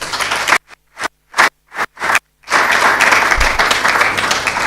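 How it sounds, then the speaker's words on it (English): Audience applause at a quality week event: a few sharp, separated bursts of clapping, then a sustained loud round of many hands clapping. "please let's put a hand of applause for them"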